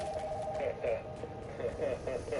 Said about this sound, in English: The phone from upstairs is ringing.